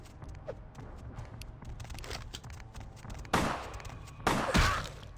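Gunfire in the Vampire: The Masquerade video game, heard as two sharp, loud bursts late in the clip, the second a little heavier, standing out over a steady low game background hum.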